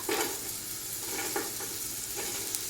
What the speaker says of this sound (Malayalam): അപ്പൊ ക്യാരറ്റ് ഇതിലേക്ക് ഇട്ട് കൊടുക്കാം